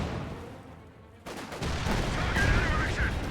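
Company of Heroes 2 battle with a gammon bomb going off amid gunfire: a sudden loud blast breaks a quieter stretch, then dense rumbling combat noise with crackling shots continues, while someone talks over it.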